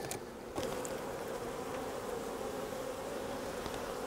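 A small split honey bee hive with a thin population gives off a continuous, droning buzz, soft and close, with a slight bump in level near the start and no talking.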